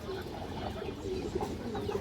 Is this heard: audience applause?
no